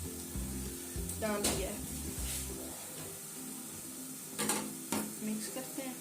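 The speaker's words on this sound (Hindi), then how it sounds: "सब्जी हमारी ये उबल रही हैं" Chicken vegetable soup cooks in a pot with a steady bubbling hiss, while a few clinks and scrapes of stirring rise above it. A brief spoken phrase comes near the end.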